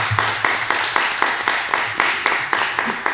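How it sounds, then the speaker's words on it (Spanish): Audience clapping during a talk on making comic magazines, a steady run of hand claps with regular beats that stays close and fairly loud throughout, with no voices over it. "ahora sí que merece el aplauso porque os ha dado una a cada uno."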